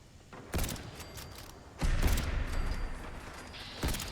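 Anti-material rifle being reloaded in Fallout 4, a sequence of sharp metallic clicks and clacks with a heavy mechanical clunk in the middle, close and distinct, no talk.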